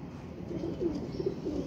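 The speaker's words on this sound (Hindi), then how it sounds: "यार, कबूतर देख लें आपके सामने" Female pigeons coo softly and repeatedly, low rounded calls recurring every half second or so over a steady background hum, fairly faint and close.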